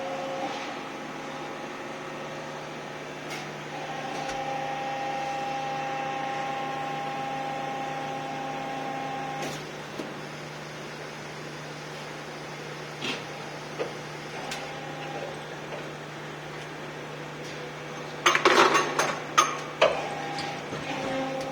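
An Apex model robot machine running in automatic mode gives off a steady mechanical hum with a faint whine, broken by scattered ticks and a brief burst of clattering near the end.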